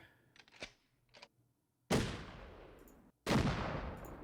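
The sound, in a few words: shotgun loading mechanics sound effect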